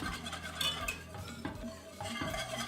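Tempered eggs are whisked into a pot of vanilla pudding, a quiet rapid scraping and clinking of a whisk against the pan in uneven strokes.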